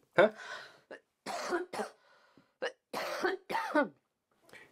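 A woman coughs several times in quick bursts in a quiet room, with short silent gaps between them.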